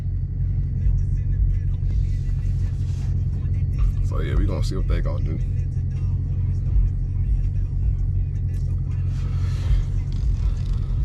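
Two Dodge Charger R/T cars, one a Daytona, rumble through city streets at night, heard from inside as a steady low engine drone with a brief rise midway, while someone talks over it.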